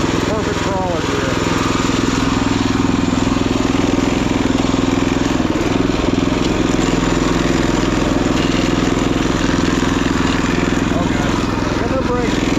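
A Wheel Horse garden tractor fitted with a Predator engine crawls along in first low gear, its small engine droning loud, close and steady throughout.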